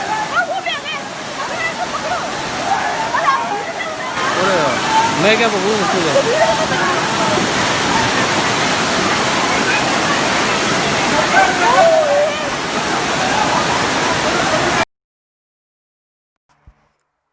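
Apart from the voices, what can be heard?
rushing floodwater from heavy rain in India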